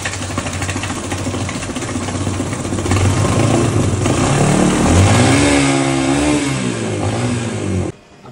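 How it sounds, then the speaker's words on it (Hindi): A Yamaha YBR 125 motorcycle engine runs steadily, then revs harder while water pushes carbon out of the silencer. It is loud and close, with a rough, buzzing exhaust note, and it cuts off abruptly near the end. "मैंने आपको बाइक स्टार्ट करके दिखाया, आपने देखा कि पानी के साथ ब्राउन ब्राउन जो था वो सारा कार्बन बाहर आ गया।"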